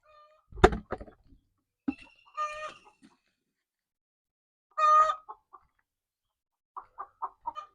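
Hens cluck and squawk in short scattered bursts among geese, with a few sharp calls and a quick series of clucks near the end, close and otherwise quiet.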